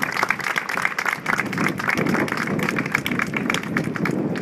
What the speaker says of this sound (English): Please, a big round of applause for Francis and Joe.